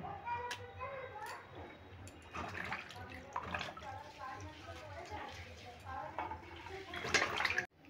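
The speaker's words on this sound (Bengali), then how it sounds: "দেখো, ফুলকপিগুলো আমি কেটে ধুয়ে নিয়েছি" Cut cauliflower being washed in water, with running and splashing water throughout, mixed with voices including a child's, ending in a louder splash before cutting off.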